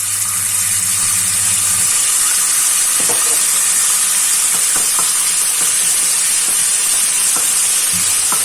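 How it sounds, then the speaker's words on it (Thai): Food frying in a little oil in a pan for a vegetarian rice-noodle rat na: a loud, steady sizzle close by, with scattered pops and stirring clicks. "น้ำมันนิดหน่อยนะคะ แล้วเจียวค่ะ"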